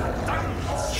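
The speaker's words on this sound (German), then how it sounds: "Der arme Hund." A dog whimpers and yelps in the video game Wolfenstein: The Old Blood, brief and partly buried under someone speaking German over the game sound.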